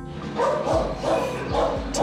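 A one-year-old poodle mix barks in short, repeated yips and bow-wows, close and fairly loud, with no talking over them.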